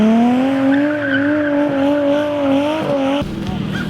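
Nissan Laurel drift car revving hard with a rising and falling engine note, tires squealing steadily as it slides, loud and close, until the sound cuts to a lower rumble near the end.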